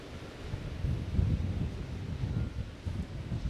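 Ocean waves break and wash onto the shore at Tarifa, a low, steady rumble of surf rolling in with wind noise, moderately loud and without talk.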